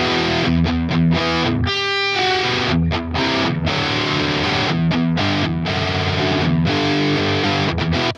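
Heavy distorted electric guitar playing thick, wide chugging chords with a doubled, layered texture, loud and continuous with brief rhythmic stops.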